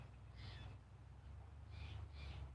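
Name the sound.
different kinds of birds outdoors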